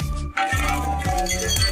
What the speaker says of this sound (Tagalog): Ang laki ng bag na yon, puro lata.